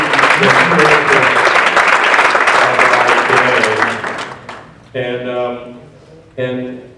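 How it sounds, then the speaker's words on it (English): Loud audience applause for ventriloquist Ronn Lucas fills the first four seconds, then fades as someone speaks over the dying claps. "give him a round of applause"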